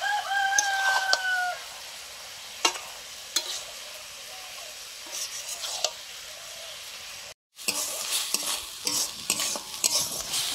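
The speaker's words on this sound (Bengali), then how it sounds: "মশলা কষানো হয়ে গেছে" Garam masala paste fries in a pan with a steady sizzle while a spoon scrapes and stirs it in repeated strokes, close and fairly quiet, and a rooster crows briefly in the background near the start.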